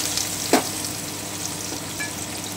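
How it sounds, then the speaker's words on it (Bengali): Chopped onion fries in oil with dry chili, cloves, cinnamon and cardamom, a steady close sizzle broken by a couple of stirring clatters, no voices over it. "আমি একটু গোল্ডেন ব্রাউন করে ভেজে নিচ্ছি।"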